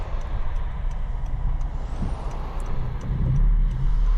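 A car passes on the road, its low engine rumble growing louder toward the end over steady traffic noise, with no talking.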